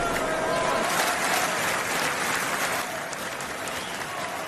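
Wrestling arena crowd at a WWE match in Saudi Arabia cheering and applauding, a dense steady roar of clapping and voices that stays loud throughout, with a commentator talking over it.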